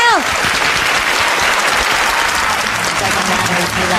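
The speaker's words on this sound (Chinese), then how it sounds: "这些大妈，掌声欢迎他们的表演" A studio audience on a Taiwanese talk show applauds loudly and continuously for a group of middle-aged women about to perform a dance, a dense, close wash of clapping with a voice briefly at the start.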